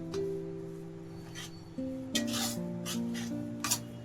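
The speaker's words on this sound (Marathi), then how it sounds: "चांगलं खमंग सुगंध सुटूपर्यंत भाजून घ्यायचं" Gram flour is dry-roasted and stirred in a pan for besan ladoo, producing repeated close rubbing and scraping strokes of a spatula, with a faint tonal hum beneath.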